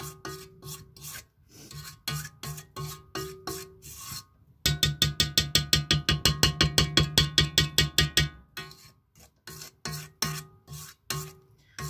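Cake batter is scraped into a 9-inch square cake pan with repeated rasping strokes, scattered at first, then a fast run of rhythmic scrapes in the middle before slowing again.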